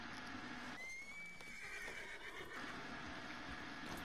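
A horse in the video game Red Dead Redemption gives a loud whinny with a rising, wavering cry over steady game ambience, with faint hoof clatter underneath.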